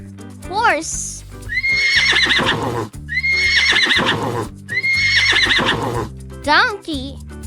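Three loud, shrill horse neighs in a row, each quavering whinny close and clear, with a voice speaking briefly at the start and end over light music.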